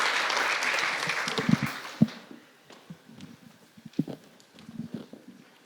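Applause for team 10 at the DATACUP 2023 final, a dense wash of clapping for about two seconds that thins into scattered, sparse claps and fades out.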